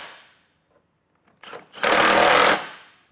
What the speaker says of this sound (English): we'll come back and we'll tighten the nuts down